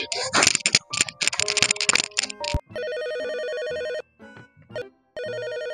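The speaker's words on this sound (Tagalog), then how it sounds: "yung telepono na pakisagot." A telephone rings in long electronic bursts separated by pauses, following a stretch of clattering and voices.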